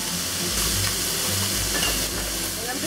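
Chicken and asparagus stir-frying in a hot pan, a loud, continuous close-up sizzle with crackling and a few stirring scrapes, no talking.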